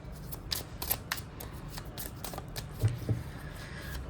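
A deck of tarot cards is shuffled close by, quiet riffles and soft slaps of cards in an irregular run.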